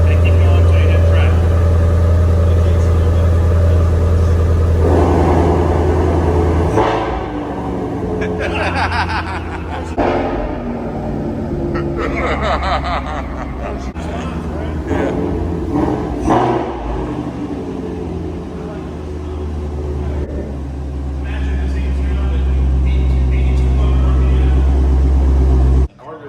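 A Ford Shelby GT350 with its drive mode switched to track revs its engine in a loud, sustained low rumble that swells and falls through repeated blips, with people talking and reacting in the cabin around it.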